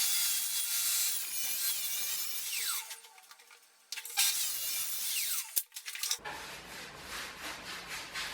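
Wooden boards being ripped narrower and cut to length for galvanised pipe furniture, heard as a close, steady rasping cut that stops, then resumes in short bursts before ending in quieter scraping and handling noises.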